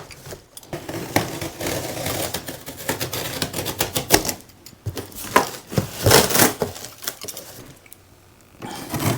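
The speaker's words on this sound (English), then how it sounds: "I'm just gonna take my box cutter and I'm just going to cut up the sides." A box cutter slicing through the cardboard sides of a WEN 14,500-watt tri-fuel generator box gives a dense run of rasping, crackling scrapes and rips, close and fairly loud, with a few short pauses.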